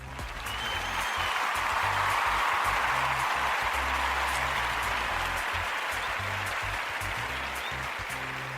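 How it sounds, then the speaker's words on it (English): Sustained applause from a crowd, a dense, even roar of clapping that holds steady and loud for several seconds with no gaps. "I'm gonna give applause to her."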